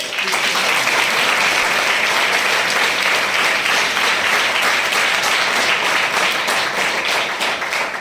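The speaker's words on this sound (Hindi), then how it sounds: "एक बार जोरदार तालियां होनी चाहिए।" Loud, dense audience applause fills a crowded business training class, a steady wall of clapping that holds evenly for the whole stretch with no talk over it.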